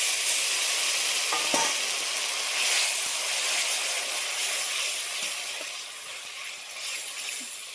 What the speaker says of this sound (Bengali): রসুন ভাজা হয়ে গেছে, এবার দিয়ে দিচ্ছি জিরে বাটা আর দিয়ে দিচ্ছি আদা বাটা